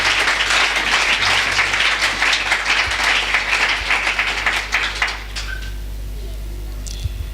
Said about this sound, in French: Can you applaud for the Lord of Lords?